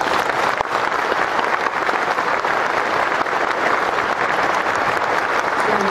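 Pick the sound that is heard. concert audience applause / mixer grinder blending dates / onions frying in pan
concert audience applause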